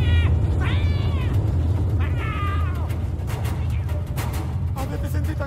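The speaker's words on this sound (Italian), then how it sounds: "ma che è sto gatto che si infila sotto le sottane" A cat meows repeatedly in rising, wavering cries, loud and close over a constant low hum and background chatter, with several short sharp knocks near the end.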